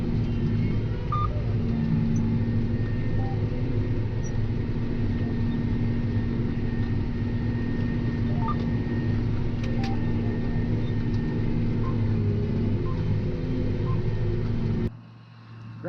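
Road traffic passing on a woodland road beside a field, heard as a constant low rumble of engines and tyres at moderate distance, steady for about fifteen seconds before dropping away.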